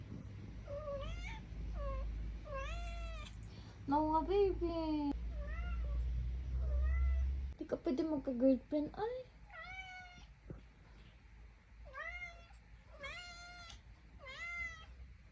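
A cat meows repeatedly, a long string of short, clear meows spread across the whole stretch, close by, while a person talks to it over and around the calls.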